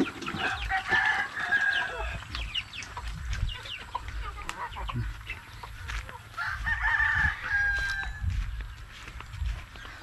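Chickens cluck steadily while a rooster crows twice, close by, with faint background noise.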